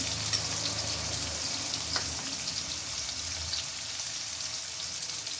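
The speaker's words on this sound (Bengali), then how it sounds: "আলুটা এবার আমি একটু ভালো করে ভেজে নেব।" Potatoes frying in a pan, a continuous close crackling sizzle with a few light clinks and stirring noises, steady in level and without talk.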